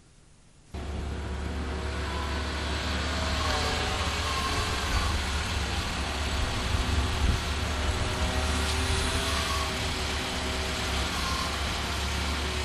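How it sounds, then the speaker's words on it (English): A Linde 39x hydrostatic forklift truck climbs a step at minimal engine speed. Its engine gives a steady, quiet, low hum that runs throughout at an even level, with no talk. "You heard how quiet the engine was as the truck climbed the step at minimal engine speeds."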